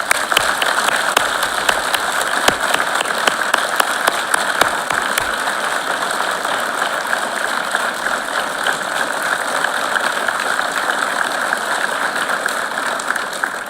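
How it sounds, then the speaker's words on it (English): A large audience applauds a graduating law class at a pinning ceremony, producing a dense, unbroken wash of clapping that holds steady and loud from start to finish. "Please join me in applauding you."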